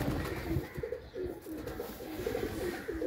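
Pigeon cooing steadily from a fancier's loft in Pakistan, a soft low repeated coo rolling on and off close by, with no talk over it.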